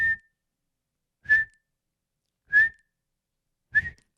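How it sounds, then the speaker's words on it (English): A person whistles four short, clear tones, each about a quarter second long, spaced roughly evenly with silent pauses between them. Every attempt is a single pitched note practised alone, with nothing else audible. "and then I'd try and whistle a tone."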